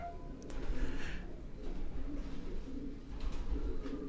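Aseel pigeons give soft, low, repeated coos close by, under a steady background murmur.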